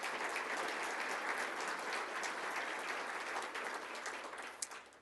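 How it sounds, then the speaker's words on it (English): An audience at a manufacturing excellence awards event applauds in a dense, steady wash of clapping that holds for several seconds and starts to fade at the end. "So let's give them a round of applause."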